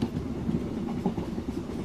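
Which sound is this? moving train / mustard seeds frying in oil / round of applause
moving train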